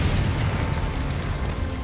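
The Confringo explosive spell goes off in Hogwarts Legacy, a loud, dense roaring blast that fills the whole moment with a sustained broadband rumble and crackle.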